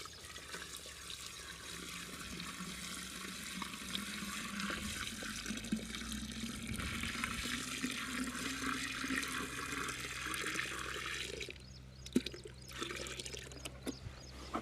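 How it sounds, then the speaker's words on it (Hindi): Water runs steadily into a 15-litre clay matka pot for an organic culture spray made with desi babool, a continuous moderate splashing pour that cuts off near the end, with no talking. "तो बाकी का इसमें पानी भर देंगे, थोड़ा सा इसमें खाली छोड़ना है।"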